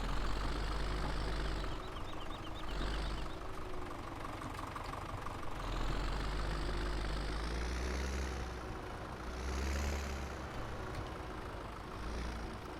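Tractor engine idling in Farming Simulator 17, a steady low rumble that swells and eases slightly in a few places, continuous and fairly close with no voices.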